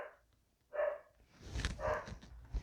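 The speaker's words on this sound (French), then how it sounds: "c'est mon petit chien qui aboie" A small dog barks indoors, faint and somewhat distant, with two short bursts of yapping about a second apart.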